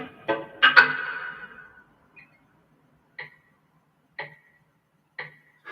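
A wristwatch ticks through a microphonic electric guitar pickup, sharp amplified clicks spaced about a second apart following a couple of louder plucked-string twangs at the start.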